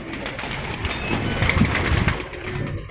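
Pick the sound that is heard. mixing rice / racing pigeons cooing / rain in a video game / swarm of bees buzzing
racing pigeons cooing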